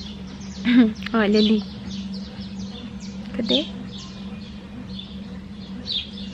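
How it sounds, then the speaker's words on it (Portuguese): Small doves coo and chirp in short soft bursts at a house construction site, scattered against a low steady hum, while someone speaks between the calls. "cadê os passarinhos?"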